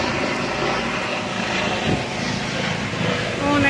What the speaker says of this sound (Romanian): Un elicopter survolează Cotroceni.